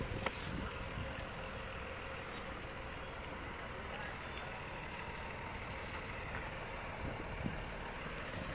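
A city bus engine rumbles nearby amid Philadelphia street traffic noise, with hissing air-brake releases in the background.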